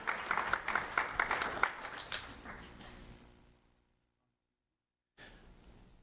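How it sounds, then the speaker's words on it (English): Audience applause at a Do the Right Thing recognition ceremony honoring three middle school students, a burst of clapping that tapers off into near silence before faint room sound returns. "Let's have a round of applause for Jaslyn, Monariah,"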